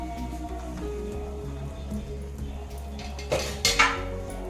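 A spoon stirring wheat milk halwa in a metal pan, with soft steady scraping under low background hum, then a few sharper clinks of utensil against the pan near the end.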